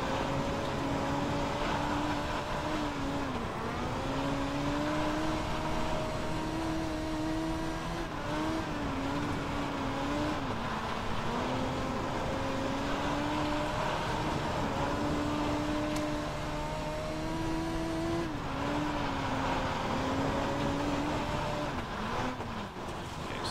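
Dirt midget race car engine in the iRacing sim, droning steadily and loud throughout with rising and falling pitch as the throttle works through corners, lap after lap with no voices.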